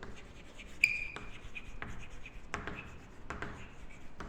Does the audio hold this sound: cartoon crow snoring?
no